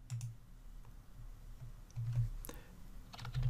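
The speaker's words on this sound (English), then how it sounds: "we need to type the equal sign" Typing on a computer keyboard while entering a spreadsheet formula in Excel: a few soft, close key taps and clicks, irregular and sparse, over a quiet background with no talk.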